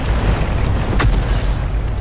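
Artillery shell from a 105 leFH18B2 self-propelled gun exploding in a tank video game, a single loud deep boom with a sharp burst around the middle over a low rumbling background.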